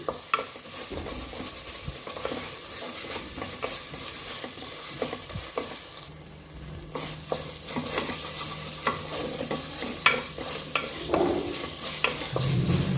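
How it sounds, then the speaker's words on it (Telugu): Ginger garlic paste fries in a little oil in a pan, a steady sizzle with repeated scraping stirs of a spatula, close and continuous. "అల్లం వెల్లుల్లి పేస్ట్ పచ్చివాసన పోయేంత వరకు మనం బాగా వేయించుకోవాలి."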